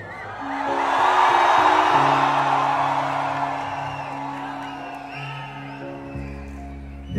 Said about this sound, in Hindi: एक बार और चीख मार सकते हो दिल्ली